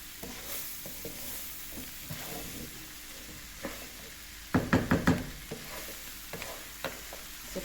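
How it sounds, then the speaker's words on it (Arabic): Paella ingredients with parsley, spices and oil are stirred in a pan under a soft steady sizzle, with light scraping throughout and a cluster of sharper spoon knocks near the middle. "وكنخلط هادشي كله كيتخلط باش ياخد لينا داك يلبس بالعطريه والزيت"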